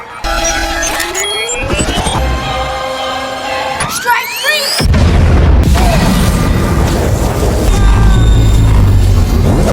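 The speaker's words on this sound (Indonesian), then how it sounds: "Dan terjadilah ledakan hebat yang membuat Argon masuk ke dimensi lain." A big explosion in an action film scene with an Iron Man-like superhero. A rising whine and scattered clatter lead into a loud, sustained roaring blast that fills the rest of the clip.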